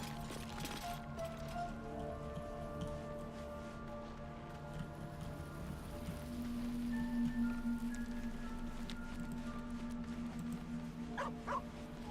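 A dog barks in a fantasy role-playing video game, a few short barks standing out over steady ambient game music and background sound, with no talking.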